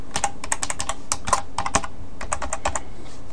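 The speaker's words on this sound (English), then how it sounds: "I'm going to type in just anything" Rapid, uneven keystrokes clatter on a computer keyboard while a web form is filled in, close up with no voices.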